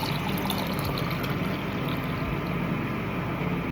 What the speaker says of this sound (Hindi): हमने जो ये नारियल मंगाया था इसको हम फटाफट से तोड़ते हैं इसको, और इसका पानी निकालते हैं।